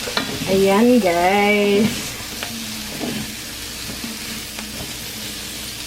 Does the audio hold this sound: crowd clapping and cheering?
no